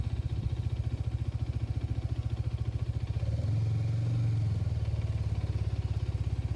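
A 2025 Hero Xtreme 250R 250cc motorcycle rides in a low gear, its engine giving a steady, close, pulsing thrum that briefly rises and smooths out midway before settling back into the same chugging rhythm, with no talk.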